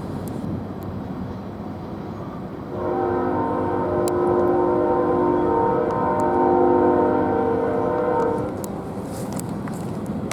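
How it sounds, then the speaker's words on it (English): A CSX freight train led by a duo of BNSF Railway locomotives passes, a steady loud tonal drone rising from rumbling background and holding for several seconds before easing off. "CSX G123 with a duo of BNSF Railway engines"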